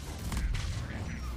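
M-99 Saber rifle fire in Mass Effect 3 combat, a heavy booming report with rumbling low-end decay amid dense battle noise, loud and close.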